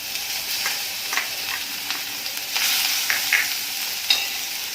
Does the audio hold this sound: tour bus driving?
no